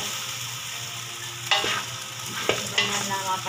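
Beef pochero being stirred in a pan sizzles steadily, broken by several loud utensil scrapes and clanks against the pan.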